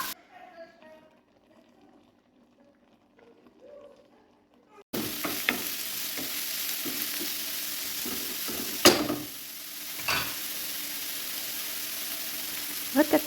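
Chopped onion and garlic dropped into hot olive oil: near-silence with faint speech first, then a sudden steady sizzle with stirring scrapes and a few louder knocks.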